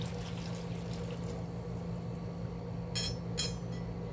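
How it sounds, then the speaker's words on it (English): Water being drained out of a sterilized canning jar, a faint continuous pouring and trickling over low background hum, with two brief brighter splashes near the end. "I'm going to drain the water"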